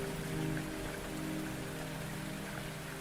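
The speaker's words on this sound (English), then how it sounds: "all that can be heard is the rain that continues to fall on the wreckage" Steady rain falls on the wreckage of a crashed BMW, an even, dense patter that holds at a constant level throughout with no voices.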